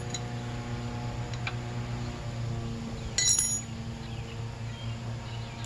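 A metal washer clinks as it is fitted onto the front brake of a 1981 Yamaha Virago XV750, sounding as a few light, close metallic taps over a steady background hum.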